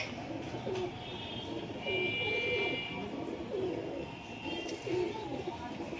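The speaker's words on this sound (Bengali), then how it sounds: "পিওর ধান্নেওয়ালা পায়রা" Pigeons coo softly in repeated short, low phrases at a moderate distance, with faint background noise and a brief high buzz.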